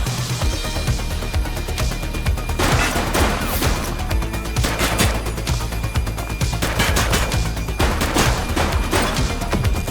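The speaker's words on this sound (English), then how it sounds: "Shots fired!" Rapid gunfire rings out in the police video game The Precinct. Loud bursts and single shots layer into a dense, continuous barrage that lasts throughout.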